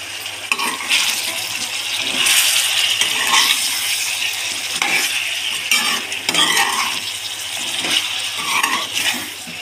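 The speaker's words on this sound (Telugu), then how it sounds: "ఇప్పుడు ఒకసారి బాగా కలిపేసుకుందాం." A spoon scrapes and stirs steadily around a metal pot of drumstick curry, with clinks and a faint sizzle underneath, close up and continuous.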